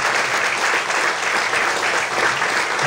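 A church congregation claps steadily and loudly in a continuous, dense wash of applause throughout, with no distinct voices standing out.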